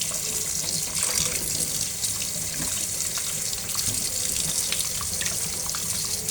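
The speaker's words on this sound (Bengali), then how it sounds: "এই তো আমরাগুলো ভালো করে ধুয়ে নিচ্ছি, সবগুলো একে একে পরিষ্কার করে নেব।" Tap water runs steadily as hog plums (amra) are washed under it in a sink, a continuous broadband splash with small clinks of fruit, close and fairly loud with no talking.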